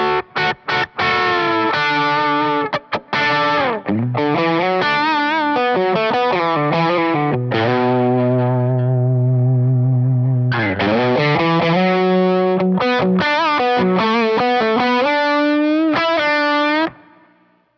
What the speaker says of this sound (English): we're getting a lot of drive there. We're getting some from the pedal and then some from the amp.